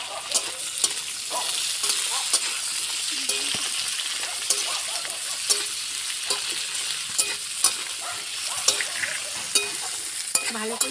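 Onions fry lightly in a pan for egg chow mein, with a continuous sizzle broken by repeated scrapes and clinks of a stirring utensil. The sound is close and nobody speaks.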